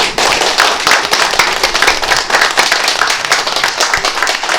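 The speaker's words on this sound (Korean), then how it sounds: "동의되시면 박수 주시면" An audience at a lecture on local self-governance given by Gwangmyeong's mayor breaks into loud, dense, continuous clapping that fills the hall evenly from start to finish.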